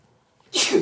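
A single sharp human sneeze bursts out close and loud after a near-silent moment, its breathy explosive release trailing off quickly.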